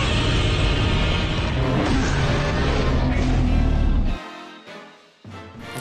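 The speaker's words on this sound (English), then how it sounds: "we can hear Godzilla roaring, another monster roaring which is currently unknown" Trailer audio from Godzilla vs Kong: a dense, loud roaring rumble fills most of the stretch, then cuts to quieter bursts of roars and booms near the end, with no speech.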